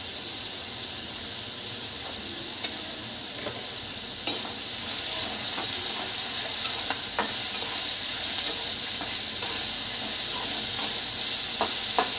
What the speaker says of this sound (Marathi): तर आता इकडे डाळीला आपण तडका दिलेला आहे